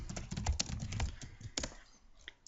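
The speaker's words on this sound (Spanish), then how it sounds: "puedo digitarlo directamente desde el teclado" Rapid clicking of keys on a computer keyboard, a quick run of taps that slows and thins out toward the end, close and fairly quiet.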